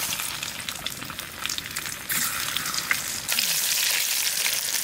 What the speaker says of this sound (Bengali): এখন আমি সিদ্ধ করে নেওয়া আলুগুলো একটু ভাজে নেব।